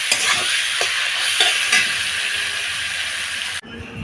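Ginger-garlic paste sizzles loudly in hot oil as it is stirred, with a few scraping knocks against the pan before the sound cuts off abruptly near the end.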